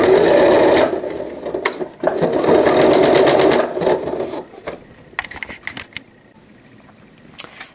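A sewing machine stitches through many stacked fabric layers for a welt pocket opening, running in loud, fast close bursts that strain and stop, then gives quieter scattered clicks and handling noises.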